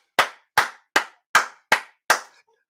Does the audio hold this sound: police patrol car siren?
no